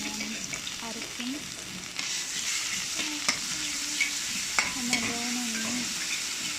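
Clams frying in a pan with ginger-garlic paste, fennel and pepper for a clam roast: a steady, close sizzle throughout, with a few sharp clacks of stirring spoon against pan.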